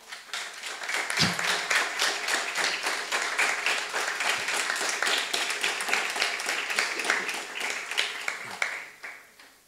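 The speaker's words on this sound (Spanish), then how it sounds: "Se aplaude la canción, es raro, el poema no se aplaude" An audience at a poetry and music evening applauds after a song, with dense, steady clapping that builds quickly and holds for several seconds before tapering off.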